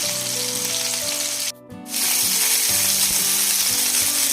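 Vaam (eel) fish sizzles as it fries on its second side in a pan, a steady close crackle with a faint ratcheting mechanical rattle running through it and a brief dip midway.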